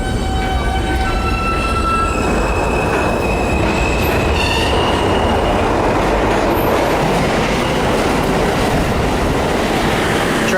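A New York subway train rumbles along steadily with loud rail noise, faint high wheel squeals and clicking, close and continuous.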